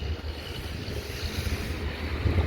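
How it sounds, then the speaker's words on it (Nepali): Cold wind gusts across the open Nathang valley near Kanchenjunga, a soft low rumbling rush buffeting the microphone steadily, with no voices. "चिसो हावा सरर"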